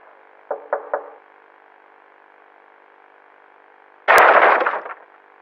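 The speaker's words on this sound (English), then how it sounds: "A man looking for someone named Scott breaks down a door to find him" A man forces a door open: three quick knocks or blows, a pause, then one loud crashing impact with a short rattling decay, close and alone without speech.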